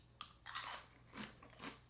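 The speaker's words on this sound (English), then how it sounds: "But it's like super crunchy." A crunchy Filipino snack bitten and chewed close to the mouth: a sharp crisp bite followed by several loud crunching chews, alone in a quiet room.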